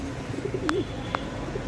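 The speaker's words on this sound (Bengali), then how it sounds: "আসলে কবুতরগুলো অনেক ভালো।" Pet pigeons coo in a low, wavering murmur close by, a short rolling coo standing out over soft background noise, with two brief sharp clicks partway through.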